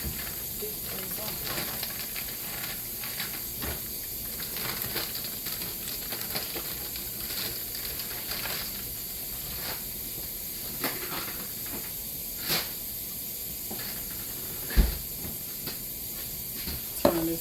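Hot grease for frying pork chops and chicken hisses in a pan, a steady broadband sizzle with occasional pops and clinks of cookware, continuing under a few spoken words.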